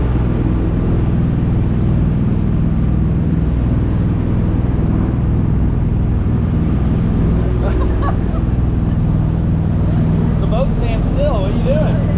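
Fishing boat cruising out to sea off Carrabelle, Florida, a loud continuous engine drone with wind buffeting, and voices talking faintly underneath near the end.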